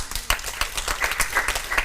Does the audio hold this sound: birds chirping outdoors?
no